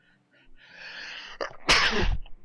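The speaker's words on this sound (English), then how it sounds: "I feel like I'm gonna sneeze, people." A single loud sneeze close by, preceded by a rising breathy inhale and followed by a brief exhale.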